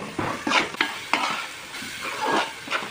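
A chili powder and tomato puree mixture frying in oil for tuna fish curry, with repeated spoon-against-pan stirring scrapes over a soft sizzle, close and uneven in rhythm, no speech.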